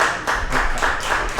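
Applause follows a solo spoken-word performance, with a short burst of hand clapping from a small audience in a few rhythmic swells that stay fairly near, without talk over it.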